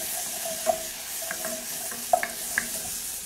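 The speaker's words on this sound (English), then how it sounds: "I'm basically gonna let this stir or saute until I can smell the aroma of the garlic and ginger." Garlic and ginger sautéing in a pan for curried cauliflower, a steady soft sizzle with a few sharp clicks of stirring spaced through the clip, close and fairly quiet with no talk.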